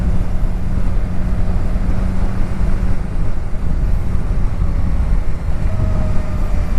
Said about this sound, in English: I definitely need to rev it a little bit to get some juice.